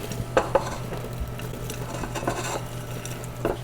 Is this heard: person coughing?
no